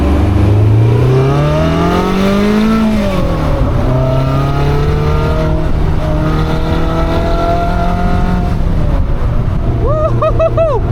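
Caterham 340S sports car accelerating through several gear changes, its engine note climbing, dropping and rising again, loud and continuous nearby, with a few sharp revs near the end.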